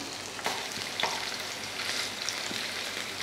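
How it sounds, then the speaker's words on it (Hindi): Chicken kebabs fry in a pan with a steady, close sizzle of hot oil that has a few brief crackles and pops. No one speaks. "एक तरफ हमारे कबाब फ्राई हो रहे हैं"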